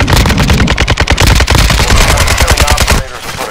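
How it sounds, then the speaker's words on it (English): Loud, nonstop automatic gunfire rattles in a rapid, even burst in Call of Duty DMZ, packed with sharp reports, before it cuts off into a quieter tail. "You are taking effective fire."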